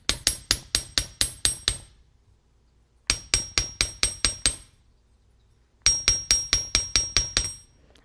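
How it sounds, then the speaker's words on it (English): Three bursts of rapid metallic chasing-hammer taps flattening a wire ring, about seven strikes each in a steady rhythm, with short pauses between groups; close and ringing. "I'm going to switch to the chasing hammer, and I'm going to flatten out this whole ring."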